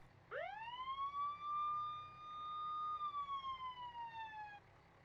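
A single electronic ambulance siren wail in the BeamNG video game rises sharply, holds a steady tone, then slowly drops, clean and moderately loud with no other sounds around it.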